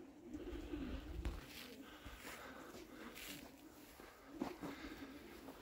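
Flock of pigeons bursting off a rooftop with a hawk nearby, soft wing flutters and a few low coos under outdoor ambience, faint and fairly distant, with a brief rustling thump early on.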